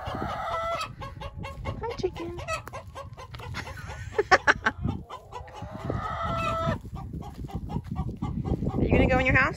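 Backyard chickens clucking in repeated bursts close by, mixed with a person talking to them and coaxing them toward their coop.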